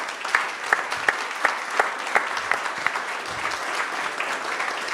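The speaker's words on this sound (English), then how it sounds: "Can we give them a round of applause?" Applause at a city council meeting celebrating a new mayor and council members, a crowd clapping steadily with a few sharper, louder claps standing out through the five seconds.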